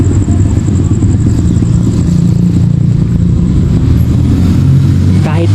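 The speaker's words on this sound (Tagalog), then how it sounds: "Kahit alas 10 na, meron pa ring naririnig na mga motorsiklo, no?" Motorcycle engines rumble past at night near a cemetery, a steady low drone throughout with a rising rev near the end, fairly loud and continuous.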